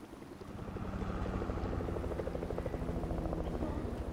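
A helicopter in the video game Fortnite thrums with a steady rotor chop that swells louder over the first second and then holds, continuous and fairly near.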